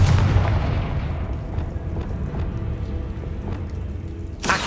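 A Confringo spell blast in the Hogwarts Legacy video game: a heavy explosive boom that trails into a long rumbling decay with faint crackles, then a sharp new burst just before the end.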